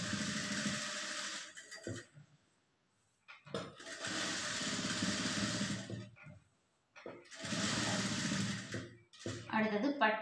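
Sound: sewing machine stitching blouse lining

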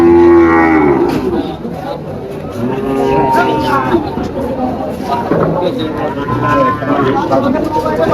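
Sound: cattle mooing at a cattle market

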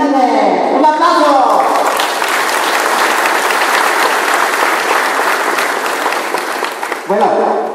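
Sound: audience applause

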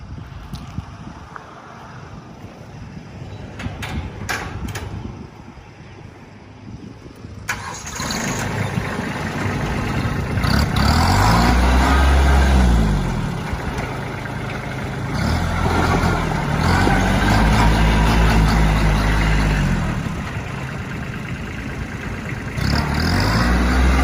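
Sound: Kubota B2440s tractor engine starting and running

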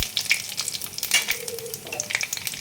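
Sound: panch phoron spices frying in oil

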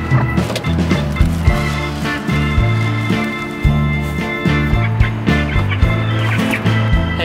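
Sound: duck and chickens in a poultry pen

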